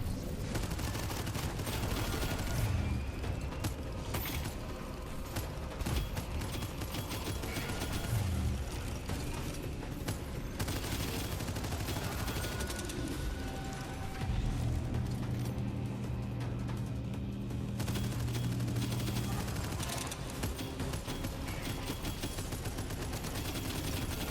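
Gunfire in the video game Abyssus, dense bursts of rapid shots and blasts layered over a continuous loud game soundscape with mechanical whirs, lasting throughout without talking.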